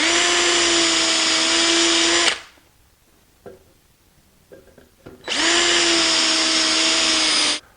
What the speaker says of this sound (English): I've still got 2 more holes to drill.